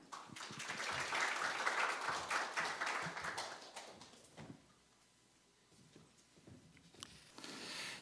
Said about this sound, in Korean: 여러분 따뜻한 박수로 맞아주시면 감사하겠습니다.